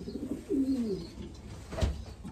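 A racing pigeon cock gives a soft, close coo as it enters the loft, followed by a faint knock or flutter.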